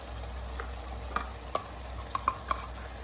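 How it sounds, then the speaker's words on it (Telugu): Chicken stirred in a frying pan over a steady low sizzle, with a few sharp spoon clicks against the pan close by. "చికెన్ వేసుకున్నాక మిక్స్ చేయండి."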